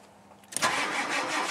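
A cold 1991 diesel truck engine on a weak battery cranks steadily without catching, a continuous loud grinding churn that kicks in abruptly after a brief quiet start and holds unbroken to the end.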